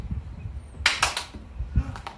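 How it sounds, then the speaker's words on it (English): Three hand claps from a man leading a home PE catching lesson for young children, heard as sharp separate slaps in quick succession with no one talking. "Maybe even 3 claps."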